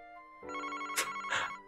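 Telephone ringing in Famicom Detective Club, a soft electronic ring tone with two quick trilling bursts after a held tone, fairly quiet and alone.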